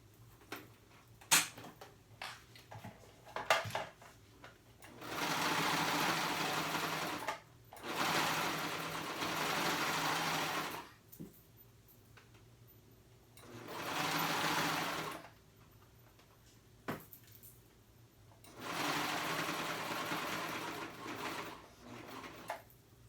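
A cover stitch sewing machine runs in several steady, close bursts of a few seconds each while hemming a ruffled top, separated by quiet pauses with light handling clicks.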